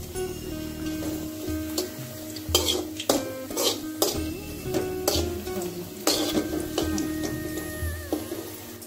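Shallots frying in a pan with dried red chillies and curry leaves for a Kerala dal tempering give a close sizzle, with a utensil scraping and clinking against the pan in bursts and no talking.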